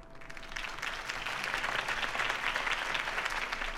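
Crowd applause in the video game Batman: The Telltale Series, a steady dense wash of clapping that swells slightly and holds loud throughout, with a faint tone underneath at the start.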